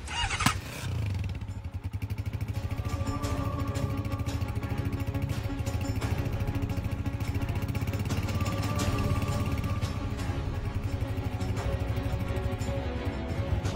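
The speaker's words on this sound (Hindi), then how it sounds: "ये बाइक खुद ब खुद कैसे चल के आ गई?" A motorcycle engine runs steadily and close for the whole stretch, a continuous buzzing drone with a brief louder burst at the start, as the bike rolls up with no rider.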